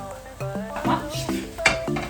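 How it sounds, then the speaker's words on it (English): Mushrooms and spinach frying in hot oil, a soft sizzle under repeated tonal clinks and scrapes of a utensil moving against the pan, fairly close. "Once your oil heated, I'm just going to chuck in the mushrooms, a good kind of handful"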